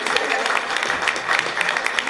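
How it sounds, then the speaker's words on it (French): An audience at a Pastef political rally in Lyon breaks into sustained applause, a dense, even patter of many hands clapping throughout, with a faint murmur of voices beneath. "je voudrais qu'on applaudisse très fort"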